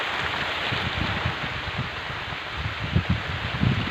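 Heavy rain pours down steadily over a farm after a typhoon, drumming on a bamboo hut with broadband hiss and dense low patter, loud and continuous with no voices.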